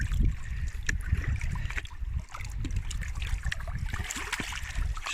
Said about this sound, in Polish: Akurat jestem nad jeziorem, tu są dosyć duże fale.